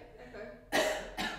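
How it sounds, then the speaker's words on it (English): A woman coughs twice during a music teacher training session, with a short burst first and a second cough following after a brief pause. Both are fairly close and stand out over faint background murmur. "Why are you coughing?"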